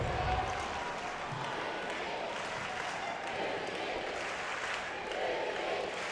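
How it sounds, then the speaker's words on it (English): Arena crowd at the 2014 European Championships in Montpellier, a near-full house, keeps up a steady roar of cheering and applause throughout, with commentary voices over it. "You hear the support of the crowd."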